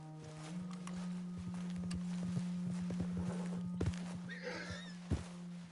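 A horse in Red Dead Redemption 2 walks with an irregular run of soft hoof clops over a steady low hum. A brief whinny-like sound rises near the end. No speech.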